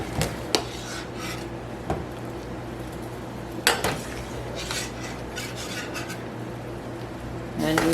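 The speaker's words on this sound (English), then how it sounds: "So I'm just going to strain it and put it in a bowl." Cooked pear and other fruit for homemade fruit cocktail is strained into a bowl: scattered clinks of a pot and utensils against a bowl over a steady kitchen hum, with a sharper clatter near the middle and at the end.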